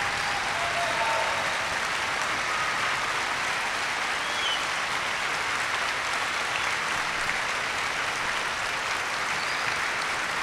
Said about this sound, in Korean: 그 정말 열렬히 환호를 보내고 있습니다.